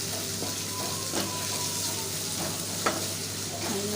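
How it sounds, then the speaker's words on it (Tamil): Onions fry with salt in oil, giving a steady soft sizzle with a few scraping stirs and light clicks, close by with no speech. "வெங்காயம் நல்லா செவக்க ஊற்றி அதில் கொஞ்சம் உப்பு போடணும்."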